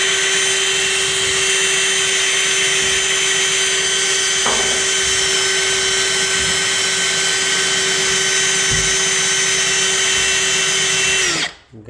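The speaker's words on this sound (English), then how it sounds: "Let's start drilling this" A Milwaukee drill bit bores steadily into metal, a continuous high whine holding for about eleven seconds with a couple of brief bumps before the drill cuts off abruptly.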